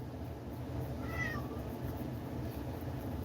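A cat hanging around behind someone painting, giving a single short, clear meow midway through, faint to moderate against a steady background hiss, with no talk.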